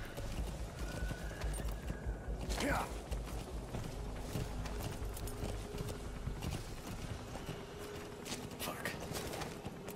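A horse in Metal Gear Solid 5 clip-clops with quick hoof beats, gives a short whinny, and moves among creaks and mechanical game noises. Steady background ambience runs throughout, and a player talks over part of it.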